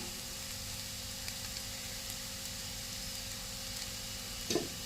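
Potatoes go into frying masala in a pan, giving a low, steady sizzle and hiss that runs throughout, with a brief louder clatter near the end.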